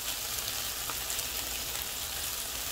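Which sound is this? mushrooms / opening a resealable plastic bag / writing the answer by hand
mushrooms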